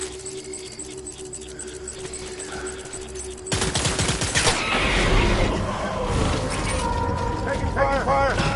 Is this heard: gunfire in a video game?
yes